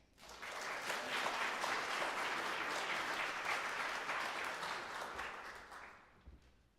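Applause from an audience at a school sports awards ceremony, a steady burst of clapping rising quickly, holding for several seconds and fading out, with no talk over it.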